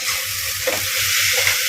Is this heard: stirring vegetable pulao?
yes